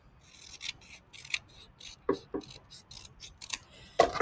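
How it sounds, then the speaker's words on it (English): Scissors snip through two stacked paper mitten cuffs in a series of short, crisp cuts with uneven gaps between them, close up and quiet, then a louder rustle at the end. "I'm stacking them on top of each other so I can cut two at once"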